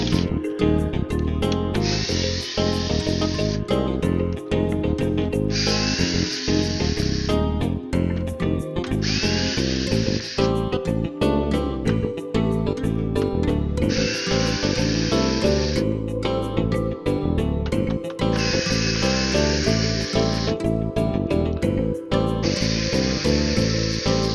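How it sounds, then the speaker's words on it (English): An electric screwdriver removing screws while taking apart an Xbox Series S, whirring in about six separate two-second bursts with short pauses between them, over a constant musical background. "I don't usually use my electric screwdriver to take these apart"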